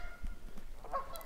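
Waterfowl honking near water in open Montana country, a few short nasal calls at moderate distance over faint wind and ambient noise.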